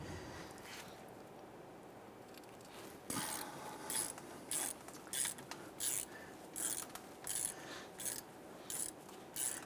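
A socket ratchet loosens the hub bolts on a Jeep Grand Cherokee, a run of about ten rhythmic clicking bursts at a steady pace, quiet and close, with no talk.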